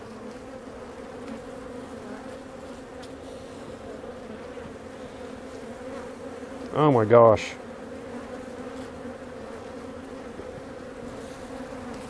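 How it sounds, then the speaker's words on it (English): Honeybees at an opened hive keep up a dense, steady buzzing hum throughout, close by, with a brief loud exclamation from a person in the middle. "They say when bees do their alarm thing"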